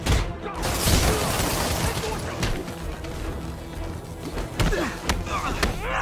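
Gunfire rings out in the Spider-Man video game: loud, close bursts of shots and sharp crashing impacts, with shouting voices mixed in throughout.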